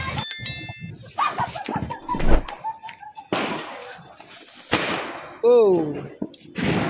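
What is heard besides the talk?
Diwali firecrackers bursting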